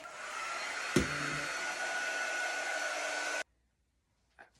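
A hair dryer blows on chalk paste over a craft stencil, a steady close whoosh that starts with a click and runs for about three and a half seconds before cutting off, then a short faint knock.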